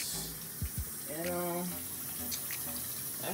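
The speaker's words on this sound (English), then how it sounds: "got the water going for the noodles" Tap water runs into a pot for boiling noodles while making shrimp carbonara, a steady close splashing stream with a couple of brief clunks at the start.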